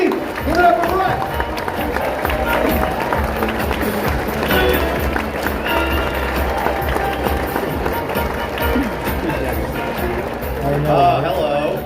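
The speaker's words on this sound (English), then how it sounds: "Big round of applause. Let's welcome to the stage Brian Franchi." A comedy club audience claps and cheers as a comedian walks on stage. Dense, loud applause and whoops run throughout, with a voice audible over the crowd noise.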